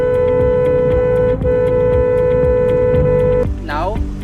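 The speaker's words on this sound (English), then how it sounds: "We are going to start by listening to the sound from the inside of the car." Steady engine drone heard from inside a moving car, a constant hum with an unchanging pitch held for several seconds before a brief shift at the end.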